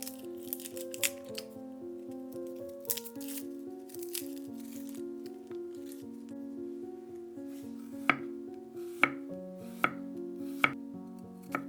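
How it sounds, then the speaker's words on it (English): A knife finely chopping garlic cloves for Vietnamese nuoc cham dipping sauce, with quick light taps on the board under background music and a few sharper, louder knocks near the end. "Chop the garlic cloves very finely."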